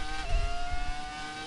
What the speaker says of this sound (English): I love the old cars, I love the old sounds of the engine